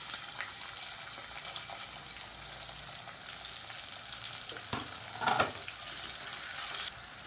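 Spices, green chillies and a couple of handfuls of sliced onions frying in oil in a pan, giving a steady, close sizzle with a few brief stirring or clattering bursts.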